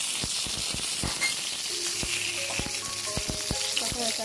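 Whole spices, two bay leaves and cinnamon pieces, dropped into hot oil crackle and sizzle steadily at close range, with a few light clinks of a utensil against the pan and no talking.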